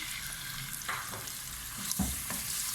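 Chicken pieces with garlic paste fry in a pan for chicken Manchurian, giving a soft, steady sizzle with a few scraping stirs of a spatula. The sound is fairly quiet.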